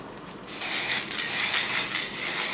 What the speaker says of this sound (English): I have some clear spray, which I want to spray on top of the table